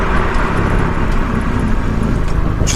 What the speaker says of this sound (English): And I'll give another brake test here